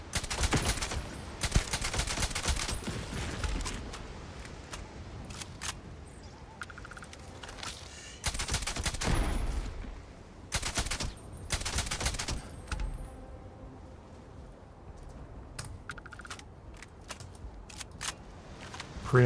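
Bursts of gunfire from shooting critters in the video game Starfield, played in survival mode, with several loud volleys separated by quieter stretches of game ambience and footsteps.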